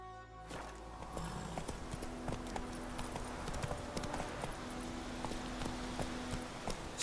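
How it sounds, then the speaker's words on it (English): Horse hooves clip-clop at a steady trot in The Witcher 3, a continuous rhythmic patter with a brief whinny, close and moderately loud, with a voice speaking over part of it. "Whoa there, Roach"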